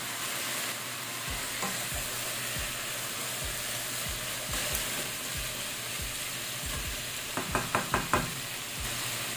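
Squash (kalabasa) goes into a sizzling pan of mung beans: a steady close fry hiss with repeated scrape-and-stir strokes, ending in a quick cluster of sharp knocks from the spoon against the pan.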